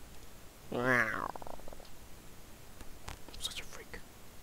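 A person softly imitates a cat's purr with a short voiced rolling burst, followed by faint breathy whispers and light clicks at low volume.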